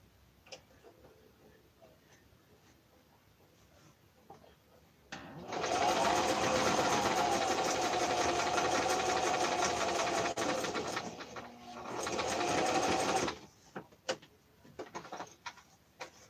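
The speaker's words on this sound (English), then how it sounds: "I'm going to sew it on really quick. It's a really quick straight stitch." A sewing machine whirs steadily through a straight stitch in two long runs, a brief pause between them, followed by a few light clicks and taps nearby.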